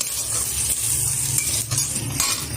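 Onion, garlic, ginger and chili powder stir-fried in a pan for a chicken dish, with a steady sizzle under repeated scraping stirs of a spoon against the pan, close and alone.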